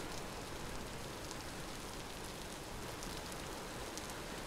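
Steady rain falls in the video game Vintage Story, a dense, even hiss with scattered drop ticks that runs quietly throughout with no voices.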